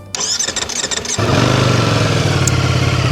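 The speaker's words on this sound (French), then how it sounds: "On va démarrer la machine quand même, on va faire sonner un petit peu ce V4, il est chaud." A Ducati Streetfighter V4S's warm V4 engine cranks with a short run of uneven starter pulses, then catches and settles into a loud, steady, throbbing idle up close, with no one talking.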